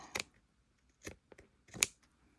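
Scissors snip a journal page while trimming it to fit an open-spine handmade book, three separate crisp cuts spaced out in a quiet room with no talking.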